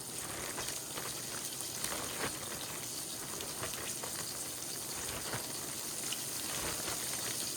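Cube steak frying in a skillet, a quiet, even hiss and crackle of hot fat that holds steady with faint pops scattered through, no talk.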